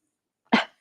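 A pet dog named Dexter gives a single short, sharp bark at a bug indoors, close and fairly loud against an otherwise silent room.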